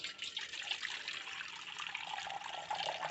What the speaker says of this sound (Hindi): लगभग आधा गंजी पानी डालेंगे